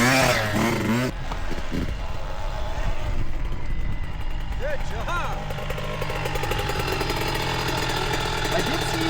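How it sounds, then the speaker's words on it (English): Yamaha YZ65 dirt bike engine buzzes and revs high and continuously, rising and falling in pitch as gears shift, heard from nearby with some wind and background noise throughout. "you're coming out of this corner in first gear and it starts to rev high"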